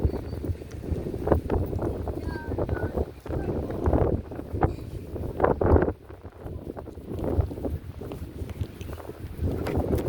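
Wind buffets the microphone outdoors in Greenwich with low rumbling gusts, along with scattered footsteps and faint background sounds.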